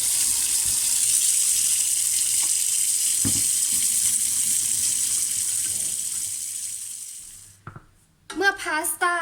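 Boiling water is poured off cooked spaghetti into a sink, a loud, steady splashing gush lasting several seconds before tapering off, then someone speaks.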